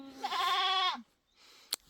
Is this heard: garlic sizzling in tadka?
no